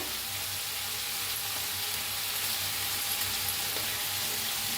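Roasted eggplant and potato pieces sizzle in a pan for a potato-eggplant bhaji, a steady, even hiss of frying that holds at moderate loudness throughout with no talk.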